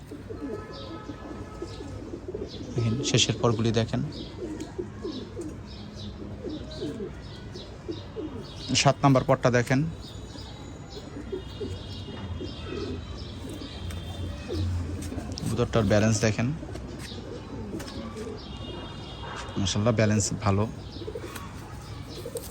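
Ferozpuri pigeons coo in four bursts spaced a few seconds apart, close and moderately loud, while someone talks over them throughout.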